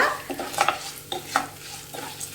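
Ingredients for a raw mango and grated coconut chutney fry in a pan, a soft sizzle punctuated by a few brisk stirring scrapes at irregular intervals, close and clear with no talk.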